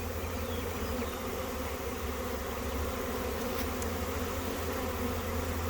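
Honey bees swarming in the air near a hive in a bee yard, a continuous dense buzzing drone, steady and fairly close, with no voices over it.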